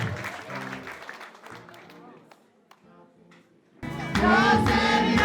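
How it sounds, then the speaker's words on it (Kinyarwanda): At a church ceremony installing pastors in Kamonyi, someone speaks and then a loud burst of congregation clapping breaks out, mixed with raised voices. "amashyi menshi ku Mana, amashyi menshi ku Mana."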